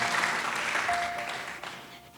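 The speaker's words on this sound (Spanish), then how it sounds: "Denle un fuerte aplauso al Señor" A church congregation breaks into applause, a full wash of clapping that starts strong and gradually fades away over a couple of seconds, with a faint sustained tone sounding briefly in the middle.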